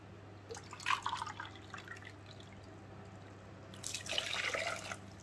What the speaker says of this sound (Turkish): 3 su bardağı da su koyacağım.